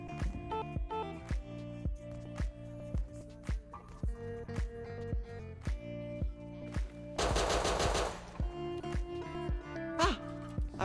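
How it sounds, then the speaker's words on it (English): AK rifle fire in the survival video game Rust: sharp gunshots crack out in a steady run of single shots and short bursts, with a loud noisy burst midway and some softer shots later. "Chat, I hear AK."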